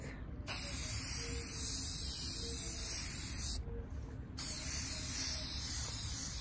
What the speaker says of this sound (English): I'm about to spray the second coat.